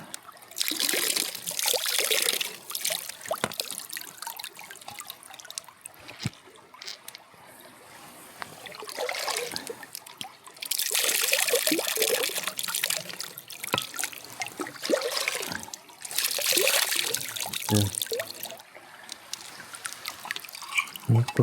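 Water scooped from a muddy, flood-swollen river at the bank, with splashy trickling and dribbling sounds coming and going in bursts over steady outdoor background.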